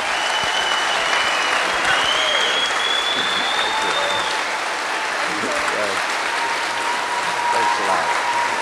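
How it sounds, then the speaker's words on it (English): Audience applause at the end of a panel with James Hansen and youth speakers, a steady, dense clapping from a crowd that fills the whole stretch at an even, fairly loud level. "So a wonderful round of applause for James Hansen."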